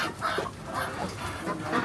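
A chicken lying in a hobby coop clucks softly in short, repeated bursts, close by and moderately quiet.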